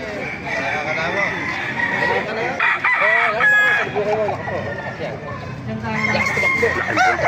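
Roosters crow repeatedly at close range amid clucking poultry, with people chattering in the background at a market.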